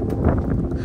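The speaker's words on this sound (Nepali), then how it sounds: "डेन्जर हावा आउँछ" Strong gusting wind buffets the microphone at a high, exposed spot along a steep wall like a mini Great Wall, a steady low rumble with slight swells, loud and close, with no voices.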